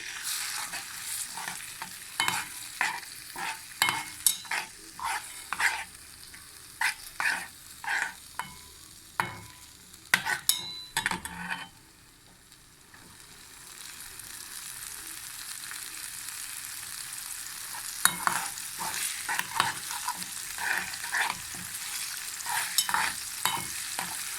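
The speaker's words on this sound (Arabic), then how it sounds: "زي ما شايفين كده نزلنا بالسمنه والثوم وهنشوحه بقى" Garlic frying in ghee in a pot, a continuous crackling sizzle broken by frequent sharp clinks and scrapes of a spoon stirring, moderately close with no talking.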